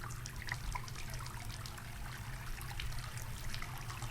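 Running water from a tap in the horror game Asylum, a steady faint trickle and splash with a low hum underneath, continuous and without talk.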